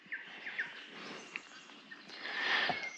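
Birds sing outdoors at a campsite, giving faint scattered chirps and short high whistles over a soft airy background, with a brighter call near the end.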